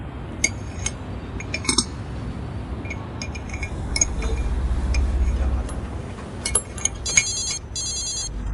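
A phone rings in short bursts of electronic trilling near the end, over a low hum with scattered faint clinks.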